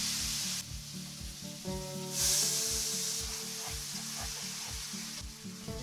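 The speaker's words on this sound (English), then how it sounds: "add the pasta to the frying pan." Pasta sizzles steadily in a frying pan with butter and olive oil, a close, continuous frying hiss with brief bursts and faint stirring scrapes throughout.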